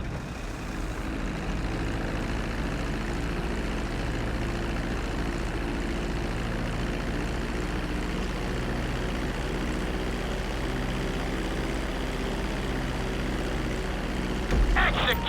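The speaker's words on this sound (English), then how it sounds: "Start reducing the plane's altitude gradually so you're just above the runway as you approach." Airplane landing on a runway in Grand Theft Auto V, a steady loud engine drone with propeller rumble holding throughout, ending in a brief louder thump near the end.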